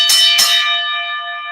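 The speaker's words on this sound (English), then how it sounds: "That's the last bell" A boxing-style ring bell struck twice in quick succession, loud and close, its metallic tone ringing out and slowly fading afterward.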